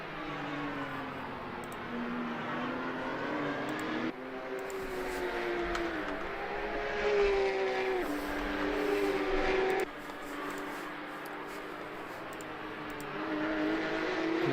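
Porsche Carrera Cup race cars at Oulton Park, a loud, sustained engine drone that rises and falls through gear changes and holds close throughout.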